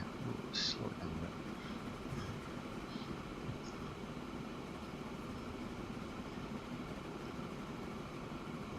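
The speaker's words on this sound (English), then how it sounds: "Let's get this train going." Train from the video game Transport Fever rolling along its rails, a steady low rumble with a faint brief high squeal near the start, constant and moderately quiet throughout.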